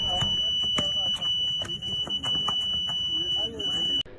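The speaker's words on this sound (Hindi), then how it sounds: "तो ऐसे बीप की आवाज़ सुनाई देगी।" A high electronic beep from a race timing mat at a police constable physical test sounds continuously with people talking and background bustle, then stops abruptly near the end.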